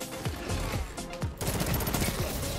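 Lord of Wolves weapon in Destiny 2 firing rapid bursts of shots, loud punchy cracks in quick succession with a brief pause before a dense final volley.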